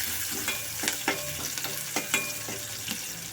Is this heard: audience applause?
no